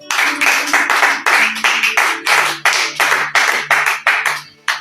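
A congregation at a French-language church service claps in unison, a steady run of sharp, loud handclaps in repeated bursts with brief gaps between them, close and with no talk over it.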